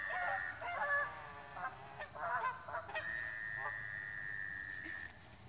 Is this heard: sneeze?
no